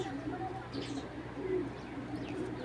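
A female Cheeta Military pigeon cooing softly, with low repeated murmuring coos under a steady background hum and faint chirps, fairly close but quiet.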